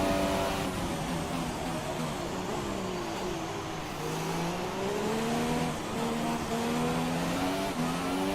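A Formula 1 car at the final race of the season in Abu Dhabi, UAE, in the game F1 2017, screams through its gears. High revving engine tones rise and fall in sweeping pitch, loud and continuous, with other engine noise layered beneath.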